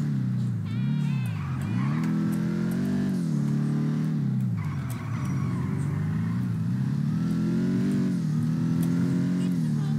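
A fast car in GTA5 accelerating hard, its engine note rising and falling through gear changes, loud and close throughout.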